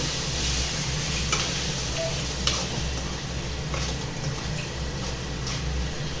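Eggplant fries in a pan with a sprinkle of water, a steady sizzle broken by scraping strokes of a spoon stirring the pieces, close and continuous.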